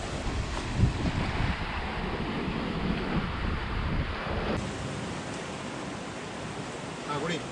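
Steady rushing surf noise from the sea, with wind buffeting the microphone throughout; no voices.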